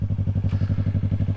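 Yamaha R3 motorcycle with a loud exhaust while riding, a fast rhythmic engine pulse thumping evenly and close, steady throughout the brief stretch.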